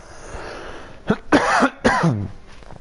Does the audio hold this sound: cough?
yes